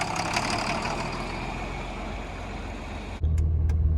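A John Deere 4320 tractor engine runs close by, a steady low rumble for most of the stretch that turns into a heavier, deeper idle drone near the end.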